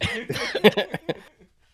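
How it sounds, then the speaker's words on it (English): A person coughs in a burst of several harsh, close coughs with some throat noise, fading out over the final moments. "I'm just coughing."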